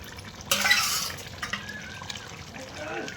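A pot lid comes off meat simmering in a curry, with a sudden clatter and a burst of bubbling, wet liquid that settles into soft simmering and stirring.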